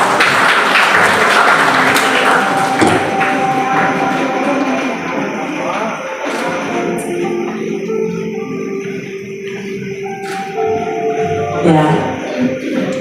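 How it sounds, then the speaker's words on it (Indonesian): Applause from a crowd at an 88th birthday celebration in Jakarta, loud at first and gradually thinning out, with some voices and scattered noise underneath. "mari kita berikan tepuk tangan"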